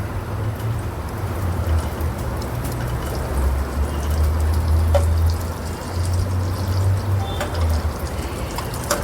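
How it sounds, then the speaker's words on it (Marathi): A spoonful of ghee goes into a small tadka pan already holding melted butter. It makes a dense, continuous close-up sizzle with a low rumble underneath, steady for several seconds and with no voices. "आता 1 चमचा तूप टाकायचा."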